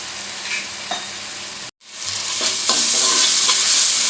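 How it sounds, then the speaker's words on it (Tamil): Finely ground ginger, garlic and pepper sizzle loudly in hot oil after softened onions in a crab gravy, with a brief stir break and then a steady, close frying hiss. "இஞ்சி பூண்டு பச்சை வாசனை வர அளவுக்கு நம்ம கொஞ்ச நேரம் எண்ணெயில் வச்சிடணும், வதக்கணும்."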